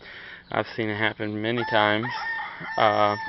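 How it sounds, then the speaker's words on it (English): A rooster crows several times at close range in drawn-out, harmonic calls, with someone talking between and over the crows. "Sorry, I have chickens."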